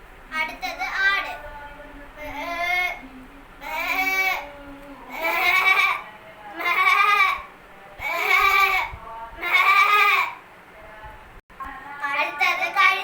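A voice imitates a goat in a mimicry performance, giving a run of about seven loud, close, wavering bleats in steady succession, with speech at the start.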